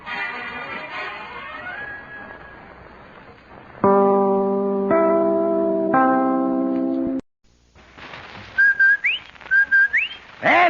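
A radio advertisement whistle for Rinso White soap: a clear two-note whistled slide figure repeated twice near the end, preceded by sustained organ-like chords, with no talking over it.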